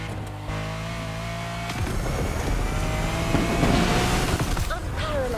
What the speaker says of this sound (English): Unparalleled power and design. That's the Lamborghini Countach for ya.